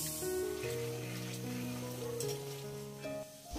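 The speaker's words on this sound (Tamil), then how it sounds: "அதோட கத்தரிக்காயும் டீப் ஃப்ரை பண்ணி எடுக்கிறேன்" Steady hot-oil sizzle and bubbling from brinjal (eggplant) deep frying in oil, continuous and close under faint background music.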